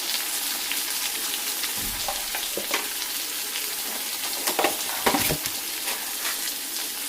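Onions and tomatoes frying in a pan for a bottle gourd curry, a continuous close sizzle with occasional stirring scrapes and clinks, no voices.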